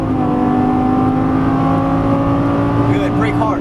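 Lamborghini Gallardo LP550 accelerating hard on a racetrack, a loud continuous engine roar heard from inside the car with a rising pitch near the end as it upshifts; an instructor's voice talks over it.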